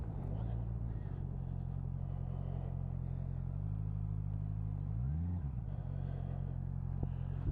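A 2023 Honda CB650R Neo Sports Cafe cruises in fourth gear at about 30 mph, its steady engine drone loud and close throughout, with a brief rise and dip in pitch near the end.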